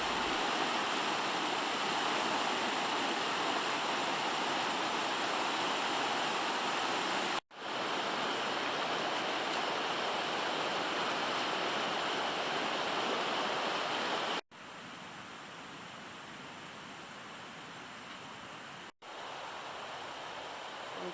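Continuous rushing water, a dense steady roar of flowing river, with a few abrupt cuts where the level drops slightly; no voices.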